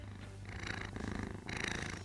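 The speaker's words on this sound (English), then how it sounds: "It's a hell of a purr" A cat purrs close by in a continuous low rumble, pulsing in rhythm with its breathing, with a brief dip midway.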